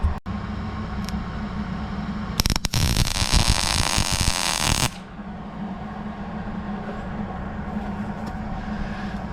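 A quick weld fills a small hole in the sheet metal of a 1952 Willys Jeep pickup: a loud, crackling buzz of about two and a half seconds rises over a steady electrical hum, then cuts off.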